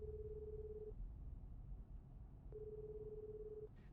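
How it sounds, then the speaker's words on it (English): A phone rings in the video game Root Film, a sustained electronic tone that sounds, pauses and sounds again, moderately loud over a low rumbling background. "her phone rings in her pocket"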